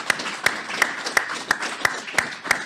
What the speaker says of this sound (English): I think we need to give him a round of applause